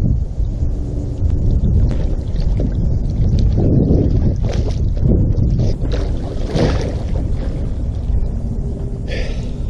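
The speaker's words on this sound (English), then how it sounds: "Then, while treading water, I'm going to lift up and flip." A swamped Native Watercraft fishing kayak, roughly 70 pounds and full of water, is lifted and flipped by someone treading water, giving steady sloshing, splashing and hull rumble with wind buffeting the microphone for the whole stretch.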